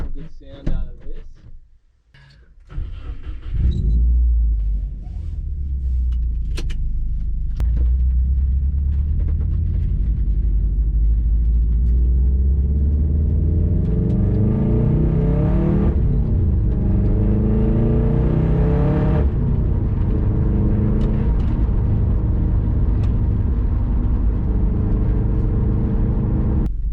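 A 2012 Subaru WRX hatchback engine pulls hard under acceleration, revving loud and close. Its pitch climbs steadily and drops briefly at gear changes, with a sustained growl and no talking over it.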